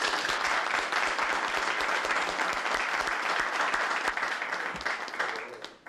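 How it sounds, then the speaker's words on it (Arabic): A crowd claps in a sustained, dense round of applause at a mock campaign speech in a sitcom, holding steady before fading out at the end. "تصفيق يا اخوان"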